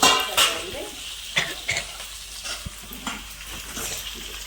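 Sliced onion frying in a pan, a steady sizzle with occasional scrapes and stirring knocks of a spatula against the pan, close and clear.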